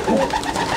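Racing pigeon cooing up close, a clear run of soft, throaty, rolling coos repeated quickly at steady loudness, with no speech over it.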